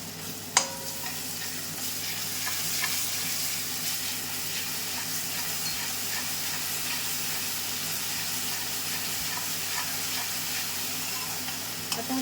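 Ginger garlic paste fries in oil in a pan with a continuous dense sizzle and hiss, stirred now and then, one sharp clack near the start, and no voices throughout.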